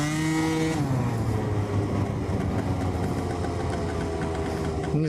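A car with a new engine configuration running and driving at low revs, its steady engine hum rising slightly in pitch, continuous and close throughout with no talk over it.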